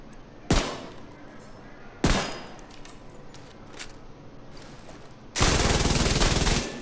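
Gunfire in The Division 2 from a solo PVE build, with a single sharp shot, a second shot a moment later, then a sustained burst of automatic fire hitting enemies, loud against a quieter game ambience.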